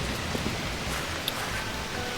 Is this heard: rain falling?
yes